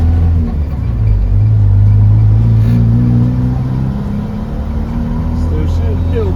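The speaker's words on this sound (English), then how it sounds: "she just wants to go, I think. It's just light throttle, it's just very light throttle" A classic Morris Minor engine revs gently on very light throttle, a steady low rumble with slight rises and dips in pitch, close and prominent, while someone talks over it.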